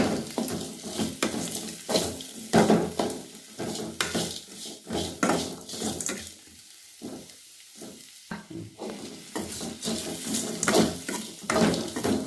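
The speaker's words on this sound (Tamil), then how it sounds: "வெங்காயம், காய்கறி, கேரட், பச்சை மிளகா, பருப்பு எல்லாத்தையும் நல்லா வதக்கணும்." Onions, carrot, green chillies, lentils and vegetables sauté in a pan for kichdi, with a sizzle under repeated close scrapes and clinks of a spoon stirring against the metal pan, in uneven bursts with brief quieter gaps.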